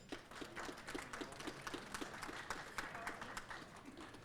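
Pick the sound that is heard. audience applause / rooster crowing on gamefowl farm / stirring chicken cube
audience applause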